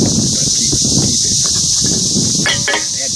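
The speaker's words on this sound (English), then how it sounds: "The wind ain't blowing much, y'all, but it's blowing that can off." Light wind blows steadily outdoors, a continuous breathy rush with low rumble against the microphone, and a couple of faint clattering knocks near the end.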